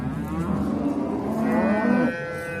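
A single long, low cow moo at a livestock market in Shahrixon, close and loud, rising and falling in pitch for a couple of seconds.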